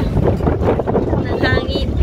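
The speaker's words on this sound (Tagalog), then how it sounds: "Ang hangin." Cold evening wind gusts across open countryside, rumbling steadily against the microphone while voices talk faintly underneath.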